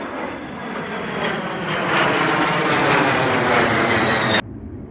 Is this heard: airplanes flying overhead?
yes